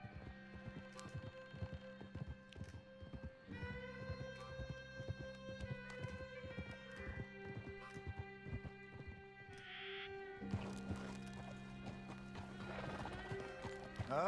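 Horse or donkey hooves clip-clop steadily in Red Dead Redemption 2, mixed with whinnies and neighs, with a sustained musical drone and game ambience running beneath throughout.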